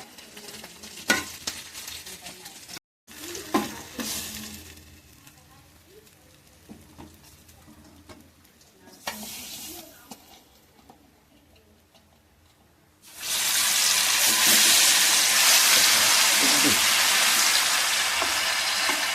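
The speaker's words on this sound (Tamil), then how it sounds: "இன்னும் மீதி உள்ள மீனை பொரிச்சுக்கிட்டு இருக்கிறோம்" Bandari fish frying in a pan, with utensil stirring and clinks over a quiet sizzle, then a loud, close, steady frying hiss that fills the final stretch.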